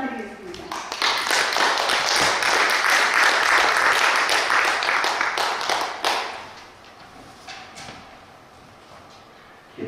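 A church congregation applauds as a pastor comes forward during a worship service, a dense burst of clapping that lasts about five seconds and then quickly fades to near quiet.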